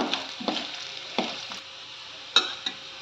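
A spoon stirs pudina masala mandakki, puffed rice mixed with crushed ingredients, in a pan, giving several short scraping, rustling strokes in an irregular rhythm, close and moderately loud, with a soft sizzle beneath and no talking.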